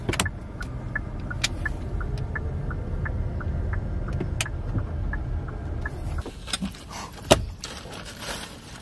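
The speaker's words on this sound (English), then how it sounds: "Driving over to Nobu right now." Car interior while driving, steady low road rumble and engine hum throughout with occasional clicks and ticks, a brief knock or thud near the end; no talk.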